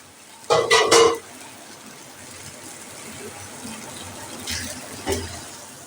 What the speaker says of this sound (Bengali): এবার আমি এটাতে জল দিয়ে দেব